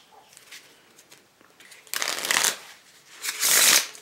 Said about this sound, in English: This one shuffles really nice.